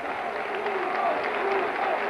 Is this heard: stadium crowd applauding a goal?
yes